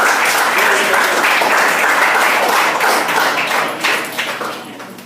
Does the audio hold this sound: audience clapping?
yes